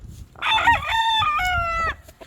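A rooster in a backyard fly pen lets out a single loud, close crow with a rising start and a long held middle, with faint yard noise around it.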